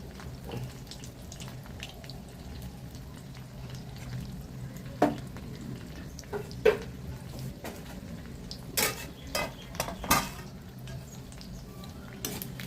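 Bread potato bonda deep-frying in oil in a pan over a medium flame gives a soft steady sizzle, broken by a few sharp clinks and taps of a utensil against the pan.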